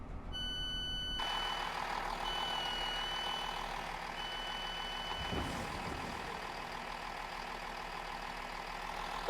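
Braking on a Class 165/166 diesel multiple unit in Train Simulator Classic: a steady, even rumble and hiss runs throughout, with thin high beeping tones on and off and a brief low thump midway. No one speaks.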